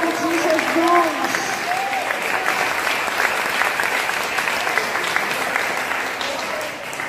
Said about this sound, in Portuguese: Louve o Senhor com palmas.